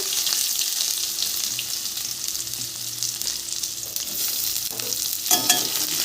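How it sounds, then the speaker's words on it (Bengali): Onion sizzling in hot oil with cumin, a steady close frying hiss with light stirring and a sharper burst near the end, no voices. "পেঁয়াজটা একটু লাল করে ভেজে নেব"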